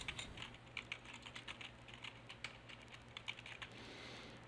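Quiet, close typing on a computer keyboard while entering a connection name, a steady run of light key clicks over a faint hum, with no talking.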